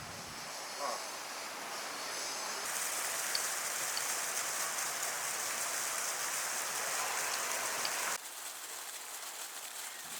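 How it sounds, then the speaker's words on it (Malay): Light drizzle falls on the Himalayan village of Namche Bazaar in the Solukhumbu region, a soft, even hiss of rain that continues throughout, with faint talk nearby. "hujan masih lagi turun secara renyai-renyai membasahi bumi"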